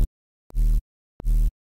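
Serum synth noise hit made from a sine wave and noise distorted together: two short, punchy, gritty bursts with a heavy low end, separated by silence.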